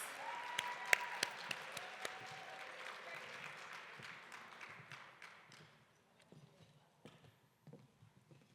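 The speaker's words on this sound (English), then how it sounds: "Let's give them one more round of applause as they get their seats." An audience at an evening authors' gala applauds as the authors take their seats, dense clapping close by that fades over about six seconds, followed by a few scattered claps and faint rustling.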